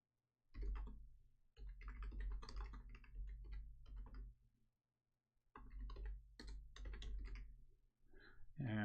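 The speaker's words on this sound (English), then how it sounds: "And so I'm typing in something to you" Computer keyboard typing during an online tabletop game session, two close bursts of rapid clattering keystrokes separated by a brief pause, with no talking over them.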